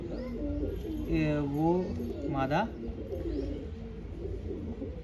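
A pigeon gives a couple of short, warbling coos at close range over a low background hum, while someone speaks briefly.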